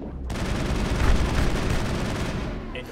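Gunshots from the Mass Effect video game ring out in a rapid, continuous stream of loud, close blasts that start abruptly and fill the whole moment.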